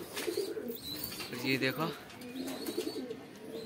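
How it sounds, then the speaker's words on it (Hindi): Pet pigeons cooing on a rooftop loft, a soft rolling coo rising mid-clip over steady background noise, with someone talking nearby. "देखो यहाँ अपने सब कबूतर"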